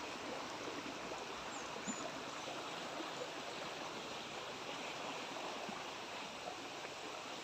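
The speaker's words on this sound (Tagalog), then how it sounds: "meron ding merong sapa sa loob ng property" A small stream flows through a mahogany-planted farm lot in Laguna, giving a steady, faint rushing of water with no voices.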